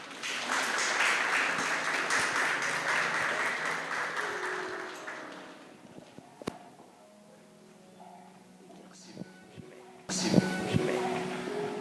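Audience applause welcoming pastor Mathias Bécou fills the opening seconds, then fades into quieter room sound with a few clicks before a louder burst near the end.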